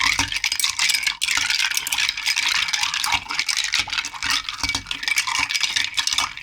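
Continuous clinking and rattling of ice being stirred in a glass, close and moderately loud, with brief pauses in the motion.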